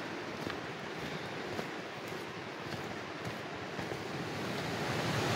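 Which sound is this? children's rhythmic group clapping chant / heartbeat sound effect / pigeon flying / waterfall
waterfall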